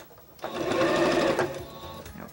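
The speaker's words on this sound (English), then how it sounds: "whenever you start your stitch, you go forward and backward to reinforce it" A sewing machine stitching a leggings seam runs in one close, steady whirring burst of rapid needle strokes for about a second, starting and stopping abruptly as it backstitches to reinforce.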